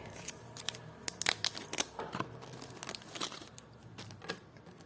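A plastic packet from a parcel of vintage jewelry being handled and opened: close, sharp crinkles and rustles arriving in irregular bursts, some crisp snaps standing out, with no talking.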